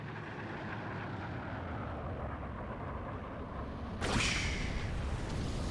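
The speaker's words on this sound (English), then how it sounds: "Oh, I hear a nuke." A nuke launching and striking in a StarCraft II match, heard as a steady low rumble that swells into a sudden bright whooshing blast near the end, with no talk.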